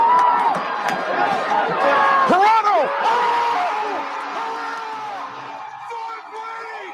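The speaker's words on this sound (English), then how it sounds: "And you can hear the crowd there" A soccer stadium crowd roars and whoops after an overtime game-winning goal, a loud sustained wall of cheering with shouts rising and gradually easing, and voices talking over it.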